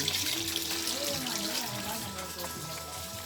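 Spring water from a mountain source flows and trickles steadily close by, while a person talks over the running stream.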